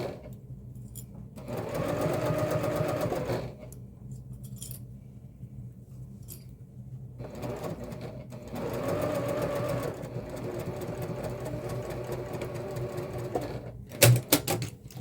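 A sewing machine stitches the mesh pocket of a messenger bag in several separate runs with quiet pauses between them, close and steady, ending with a few small clicks.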